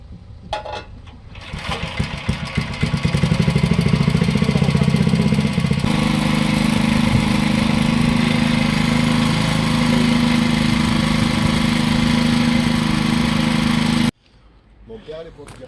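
A restored Briggs & Stratton 5 hp rototiller engine starts and runs steadily at a loud, close idle for about twelve seconds, its rough low chugging drone constant before cutting off abruptly.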